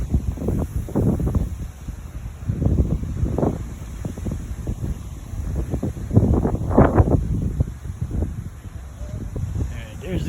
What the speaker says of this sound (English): Hope you can hear me, the wind's really moving up here.